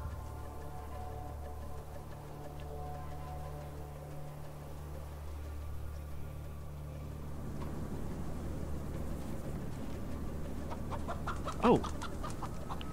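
Chickens cluck steadily throughout a farmyard scene in the video game Atom RPG, with a low hum underneath and a brief louder squawk near the end; a voice says a single short word.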